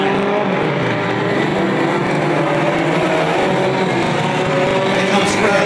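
Unlimited banger stock cars roar through a corner at a Mildenhall open meeting, a loud, dense wall of engine noise from several cars at once, with faint tyre scrub and no clear talk over it.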